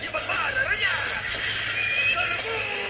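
A horse neighs in a dramatic action film glimpse, a high wavering whinny over a dense music score with other sounds mixed in.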